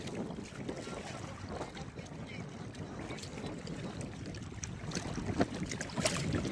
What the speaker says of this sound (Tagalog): Medyo mahangin mga kahagod.